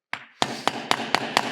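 A farrier's hammer taps a horseshoe nail into a flat front right hoof. A soft scrape comes first, then five sharp, evenly spaced metallic taps, close and fairly loud.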